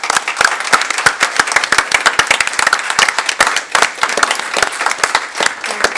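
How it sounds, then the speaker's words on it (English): An audience at a school election debate applauds the candidates, dense loud clapping from many hands, continuous and close for the whole stretch. "Can we have a big round of applause for all the candidates?"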